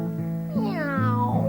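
A person's voice imitates a cat, giving a drawn-out, wavering meow followed by a couple more meow-like calls, close and clear with nothing else around.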